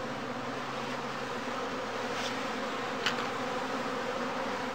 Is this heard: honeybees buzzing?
yes